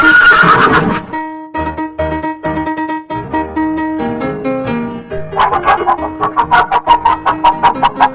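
A cartoon horse neighs, a bright whinny followed by a run of rapid fluttering, trilling pulses. It plays loud and close over an upbeat musical backing, with no talk.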